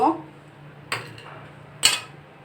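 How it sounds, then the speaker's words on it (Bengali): Fried boiled potatoes are lifted out of a wok, with two sharp metallic clanks of a utensil against the pan separated by a quiet background hum. "আলুগুলো ভাজা হয়ে গিয়েছে আমি এখন আলুগুলো তুলে নিব"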